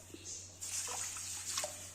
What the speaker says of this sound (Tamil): தண்ணி ஊற்றணும்.